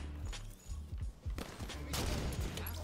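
Sniper rifle and shotgun shots crack and boom in a Halo 5 match, several quick blasts and bursts at moderate loudness over game ambience.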